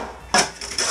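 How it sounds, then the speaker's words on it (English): A shovel scrapes and scoops dirt out of a trench cut in a concrete floor, three short gritty scraping strokes in quick succession, close and without talk. "Scoop the dirt out of here"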